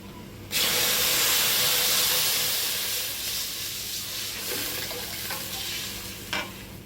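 Water poured into a hot pan of deep-browned vegetables for mackerel rice bursts into a loud, sudden hiss and sizzle that slowly settles into steady bubbling, with a couple of faint clinks near the end.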